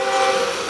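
A steady, loud mechanical hum and whine comes from four model trains running together on a layout in a home workshop, one hauling stone toward a mill; the tone stays even throughout without any voices.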